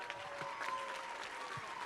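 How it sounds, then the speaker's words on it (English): A round of applause at a conference, a faint, steady spatter of clapping from a small audience, heard from a distance for a couple of seconds. "how about a round of applause?"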